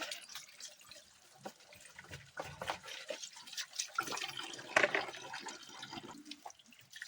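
Tap water running into a sink as freshly scrubbed dishes are rinsed in a home kitchen, with intermittent splashes, clinks and trickles at close range, uneven and fairly quiet.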